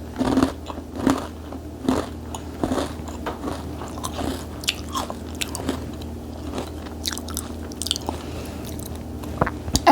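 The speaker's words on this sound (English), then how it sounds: "As you can hear, it's crunchy." Close, crisp crunching as someone bites into a brittle brown sugar shortbread cookie and keeps chewing, steady crackly bites repeating over several seconds with no talking.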